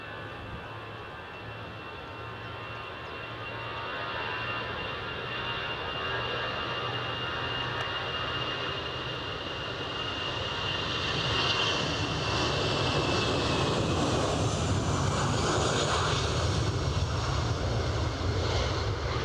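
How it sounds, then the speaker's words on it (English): An EasyJet airliner on its takeoff roll at Edinburgh gives a steady, rising engine roar that builds gradually as it accelerates, heard from a distance with no talking. "EasyJet on the roll."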